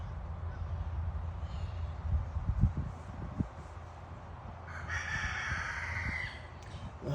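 A rooster crows outdoors in a backyard, a drawn-out call rising near the five-second mark over steady low rumble and a few thumps, fairly distant and moderately loud.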